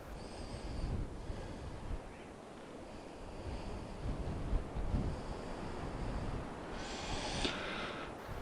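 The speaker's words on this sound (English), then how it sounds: "Just a little windy is all." Wind gusts across an open shore by day while rockhounding for agates, a steady broadband rush rising and falling with a few stronger bursts, carrying no voices.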